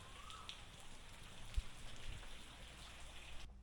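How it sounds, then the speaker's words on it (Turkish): Soft, steady rain patters in a quiet hiss on Koh Samui, Thailand, with faint scattered drops and one brief louder tap, no voices. "denizden çok yağmur tarafından ıslandım"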